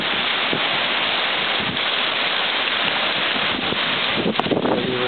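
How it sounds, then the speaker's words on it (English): Strong wind pummels the microphone with a dense, constant roar while heavy rain and hail beat down, a few sharper hail impacts standing out near the end; no voices. "getting pummeled by strong wind."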